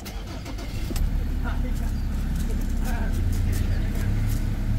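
A Mazda BT50 engine starts and settles into a steady, rumbling idle, close and moderately loud, with a faint voice in the background.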